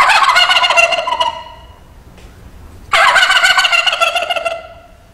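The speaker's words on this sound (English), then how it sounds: "You can sound like a gobbler out in the woods there and stuff." Two loud, rattling wild turkey gobbles close by, the first running a little over a second and the second lasting about a second and a half after a short quiet gap.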